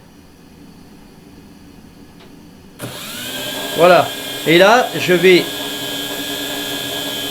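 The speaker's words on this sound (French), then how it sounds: "Alors, je vais essayer d'activer les moteurs." The motors of a Holystone HS430 drone spin up partway through, a sudden high buzzing whine that holds steady and close while someone speaks in short phrases over it.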